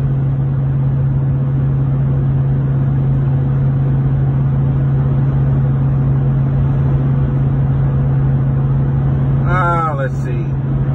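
Hemi-powered car cruising on an Arkansas highway with cruise control set, heard from inside as a steady low engine drone and road rumble, loud and continuous, with a brief voice near the end.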